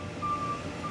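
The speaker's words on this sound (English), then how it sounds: "By your rubbish truck going past." A rubbish truck's reversing alarm sounds outside, a single thin steady beep tone heard faintly over room noise.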